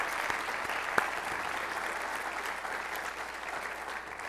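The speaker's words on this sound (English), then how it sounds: "Let's give them a round of applause for helping put this together" Steady applause from a lecture audience, moderately distant, a continuous wash of clapping that holds evenly throughout.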